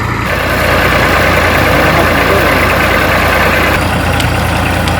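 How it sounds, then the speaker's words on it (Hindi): A tractor engine runs a tubewell water pump in a village without electricity near Gujranwala, a loud, steady, close diesel rumble that drones on continuously without speech. "ट्रैक्टर की मदद से पानी निकाला जा रहा है"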